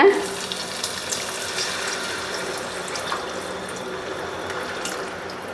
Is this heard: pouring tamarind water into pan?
yes